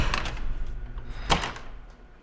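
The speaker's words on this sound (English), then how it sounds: "car doors had such a great thud opening and closing them" Doors on a 1991 Jeep Grand Wagoneer Final Edition, a couple of close latch clicks followed by one solid, heavy thud of a door shutting in a quiet space.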